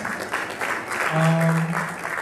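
Audience applause at a school district retirement ceremony during a board meeting, a steady moderate patter lasting a couple of seconds, with a brief sustained voice-like tone rising through it midway.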